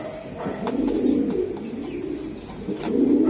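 Racing pigeons coo softly in low, repeated throaty calls, close by, over a quiet background.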